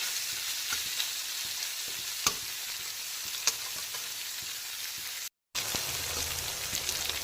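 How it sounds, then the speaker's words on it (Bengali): Grated coconut being fried in a pan over medium to high flame, giving a continuous bright sizzle with occasional stirring clicks, close and steady, with a brief silent gap near the end. "নারকেল কোড়াটাকে ততক্ষণ ভাজবো যতক্ষণ পর্যন্ত না সুন্দর একটা ভাজা নারকেলের স্মেল ছাড়ছে"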